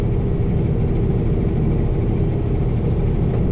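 A farm tractor engine runs steadily while brush hogging wet spots, a constant low, loud rumble close by with no break or change in pitch.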